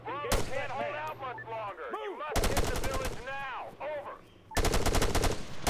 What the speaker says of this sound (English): The guns in particular, they sound freaking awesome.